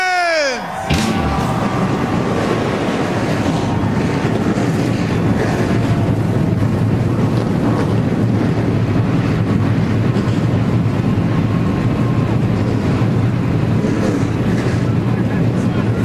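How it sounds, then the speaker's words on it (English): NASCAR K&N Series race cars at the Toyota All-Star Showdown fire up together after the start-engines command, a sudden loud burst settling into a dense, steady roar from many engines that holds for the rest of the clip. "Cars all coming to life."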